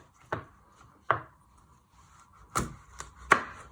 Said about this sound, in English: after when you have seeded your pepper, you first chop it in half.